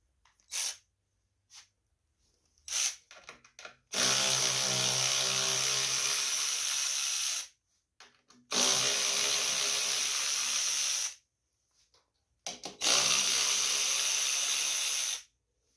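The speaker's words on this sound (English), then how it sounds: "we gotta take these 3 bolts off here, which is 5/16 socket" A power tool with a 5/16 socket removing three bolts on a Yard Machine mower, three long loud whirring bursts of several seconds each, separated by brief clicks and handling taps, close up.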